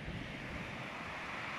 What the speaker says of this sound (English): look at the size of this wave coming